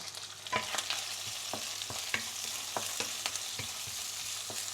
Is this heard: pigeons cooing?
no